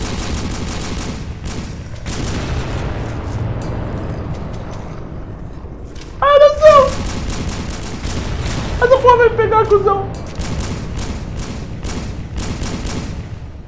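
Rapid bursts of gunfire crackle continuously, with two louder, ringing blasts standing out midway, like explosive rounds going off close by, in the VR zombie game Horde Z.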